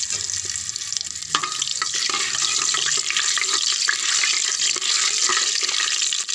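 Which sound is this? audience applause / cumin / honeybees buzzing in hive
cumin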